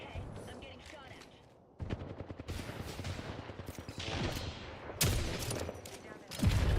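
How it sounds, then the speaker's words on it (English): Rapid bursts of video-game gunfire crackle at an enemy-held tower, dense and loud, with sharper volleys near the end and a voice talking under the shooting. "I'm getting shot at."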